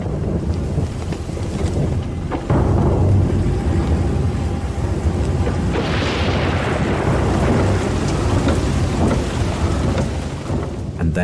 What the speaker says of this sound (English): And then the most heavy monsoon rain.